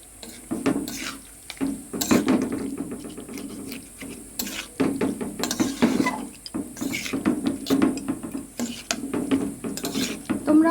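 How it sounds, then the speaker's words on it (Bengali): Fried fish head stirred through spinach in a pan, with repeated scraping and clattering strokes of a spatula against the metal over a soft sizzle, close and fairly loud, no voices. "তো মাছের মাথাটা দিয়ে দিয়েছি, তো নাড়াচাড়া করে নিই।"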